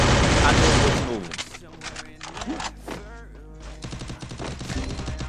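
A mobile shooter video game erupts with a loud burst of rapid gunfire, followed by scattered shots and clanks while someone talks excitedly over the action.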